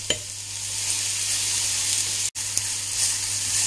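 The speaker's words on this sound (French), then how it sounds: "Quand mon huile est chaude, je rajoute l'oignon, échalote." Chopped onion and shallot frying in hot oil give a steady, close crackling sizzle that runs nearly unbroken, with one very short dropout partway through.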